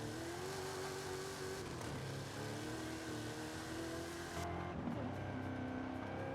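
A Chevrolet Camaro ZL1 V8 engine in Forza Horizon 5 revs and drones continuously, pitch rising and falling through gear changes, with a brief tire squeal, loud and close throughout.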